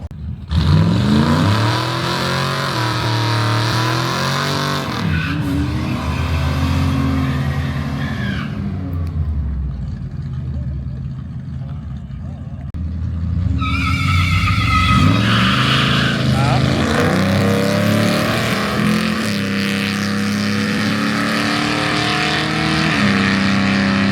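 Drag racing cars, one a 5.0 Mustang, do burnouts at a Wednesday night race, loud roaring engines revving and howling with screeching tires, a lull mid-way, then another surge of engine noise, with a voice talking over it.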